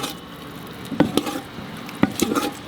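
Sannas batter with onion being stirred in a pot, giving a few soft wet scraping and squishing strokes in short bursts, close and fairly quiet, with no talking.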